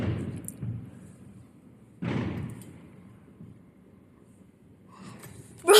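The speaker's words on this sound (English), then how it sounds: "it sounds like an explosion" Distant fireworks explosions heard from indoors: a dull booming thud near the start, a stronger broadband boom at about two seconds, and a sharp loud bang at the very end, with quiet room noise between.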